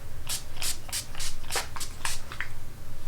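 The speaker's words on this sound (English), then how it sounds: "Let's spray some Febreze really quickly." Febreze Extra Strength air freshener sprays out in a quick run of about ten short hissing bursts, each puff close and fairly loud, with a steady rhythm and no talking.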